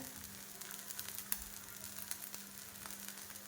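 Thalipeeth, a flatbread made from leftover rice, roasting crisp in a pan over a very low flame, giving a faint steady sizzle with small crackles throughout.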